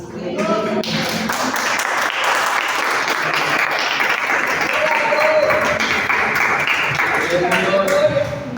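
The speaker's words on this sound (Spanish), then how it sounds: "denle unas palmas al Señor, porque Él se lo merece" A church congregation claps in sustained, lively applause that swells and holds throughout, with voices calling out now and then over the clapping.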